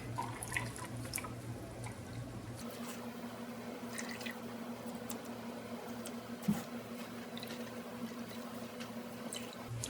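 Beetroot juice dripping as the pulp is pressed, faint wet squishing and soft irregular drips with one sharper drop, quiet and close, no talk.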